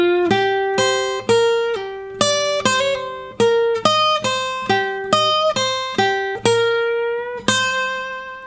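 Slow electric lead guitar lick in a blues style, a sequence of about a dozen clearly picked sustained notes with bends and vibrato, played alone at a steady relaxed pace.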